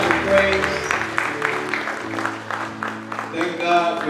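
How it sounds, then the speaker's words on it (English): Church congregation clapping to welcome guests, a dense ongoing burst of hands mixed with organ or music tones and voices throughout, fairly loud and close. "Let's give our guests a hand clap of praise."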